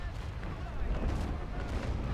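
Ship cannons boom in the naval battle game Naval Action, a dense rumbling barrage of heavy low blasts filling the whole stretch.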